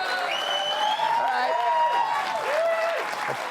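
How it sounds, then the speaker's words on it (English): The studio audience of a late-night television talk show applauds loudly and continuously, with rising and falling whoops and cheering voices riding over the steady clapping. "More applause."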